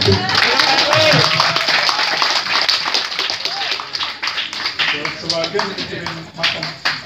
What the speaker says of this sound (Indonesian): tepuk tangannya cuma yang di belakang doang